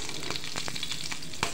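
Curry leaves and green chillies crackle and sizzle in hot oil for a South Indian tempering, a steady loud frying hiss broken by sharp pops and spatters, with no talking.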